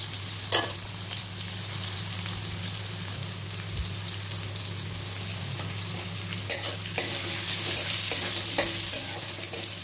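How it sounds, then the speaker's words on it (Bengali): Spiny gourd (kakrol) pieces fry with a little salt in a pan, giving a steady close sizzle with a low hum beneath and occasional sharp crackles and spatters. "কাঁকরোলটাকে একটুখানি নুন দিয়ে ঢেকে ভেজে নেব।"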